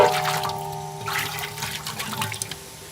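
Boiled seaweed water pours steadily into a container for a fruit jelly cake in a village kitchen, a continuous close splashing stream with slight surges and no talking.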